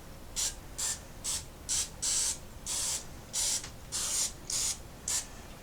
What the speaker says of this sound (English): Now we're going to give it one more spray on top of the parchment paper.